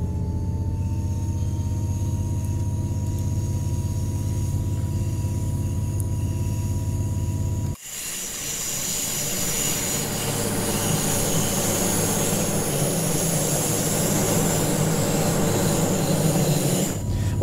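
A BR 612 diesel railcar on the Tharandter Rampe between Dresden and Chemnitz in Train Sim World 2 accelerates at full throttle, its engine hum jumping into a loud, sustained roar with rattling wheels on the rails.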